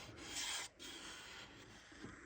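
Steady rasping of sandpaper rubbing a wooden stick dulcimer in continuous strokes, close and fairly quiet, with a brief pause partway through.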